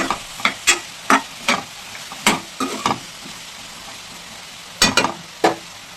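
Raw banana slices fry crisply in an open pan with a steady sizzle, broken by a series of sharp utensil scrapes and clinks from stirring, close and fairly loud, with no talking.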